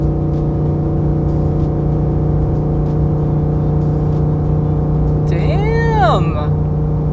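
A Ford F150 with a 5-liter Coyote V8 drones steadily from inside the cab while driving under load, with a constant low engine hum and a brief rising and falling whistling whine near the end.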